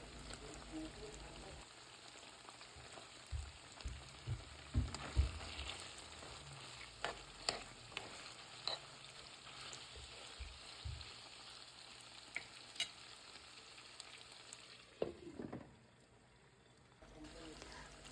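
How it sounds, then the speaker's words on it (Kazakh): Meat and carrots stir-fry in a pan with a continuous sizzle, broken by scattered clanks and scrapes of stirring, close and moderately loud, before the frying hush near the end. "Сәбізімен бірге жақсылап араластырып, тағы да 5 минуттай бетін жауып қуырып аламыз."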